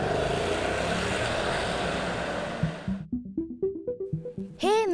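Petrol and diesel cars and motorbikes driving past: a broad rumbling wash of engine and road noise fades out, then a motorbike-like engine revs in rapid rising pulses before a final sweeping whine, loud and near.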